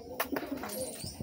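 Pigeons coo and scuffle close by in a short burst of throaty calls and wing flutters.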